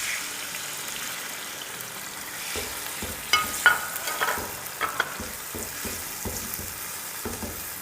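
Finely chopped tomatoes hit hot oil in a karahi for aloo keema, giving a steady low sizzle with scattered stirring clatters and spoon scrapes building from about two and a half seconds onward, no talking.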